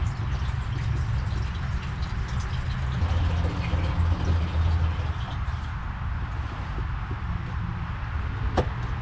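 Gasoline pours into the tank of a demolition derby car as a steady, close, gurgling stream of liquid that runs the whole time, with a low rumble underneath and no talk.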